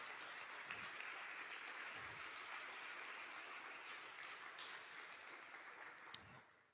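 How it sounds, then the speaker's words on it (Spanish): A church congregation applauds during a Sunday worship service, a steady, faint wash of clapping that holds evenly for several seconds with no voices over it. "Dale un gran aplauso al Señor"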